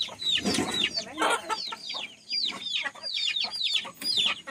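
Chickens in a backyard coop cluck and squawk repeatedly, several birds calling close by in quick overlapping bursts with short pauses, fairly loud and alone.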